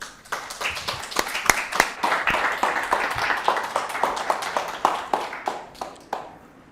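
An audience at an academic conference marking a research institute's anniversary claps to welcome a keynote speaker, a dense run of individual hand claps, fairly close and steady, with no talking.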